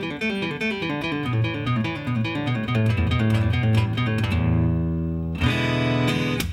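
An acoustic guitar plays an open E pentatonic blues scale exercise, running quick picked note sequences up and down repeatedly in a continuous stream, then a ringing chordal strum near the end; close and loud with no talking.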